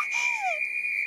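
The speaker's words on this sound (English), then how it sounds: "Old Rusty, loudest whistle in the world" A loud old cartoon whistle blows one long, steady, shrill tone that holds for about a second, with a short swooping slide at the start.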